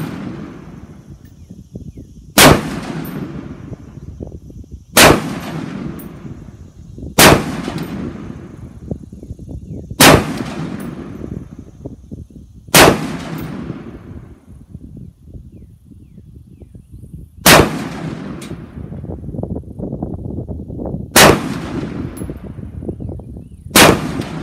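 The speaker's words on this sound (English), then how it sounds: "we're going to fire a few rounds through this one as well" A Diamondback DB10 rifle fires at an outdoor range: nine loud, sharp shots spaced a few seconds apart, each cracking close by and trailing off in a ringing echo, with background noise between.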